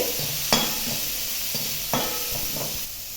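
Thinly sliced onion and capsicum frying in a pan, a steady close sizzle broken by two or three sharp spatula scrapes and taps as the vegetables are stirred, with no voices.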